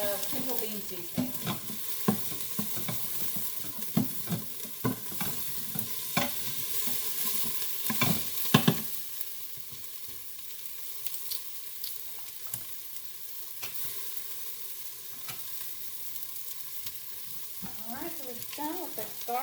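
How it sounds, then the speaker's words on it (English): Onions, bell pepper and garlic sauté in a pot for pinto beans with a steady, close sizzle, joined by repeated scraping stirs that pause briefly around the midpoint before resuming. "Is Well, everything sauteing up really well?"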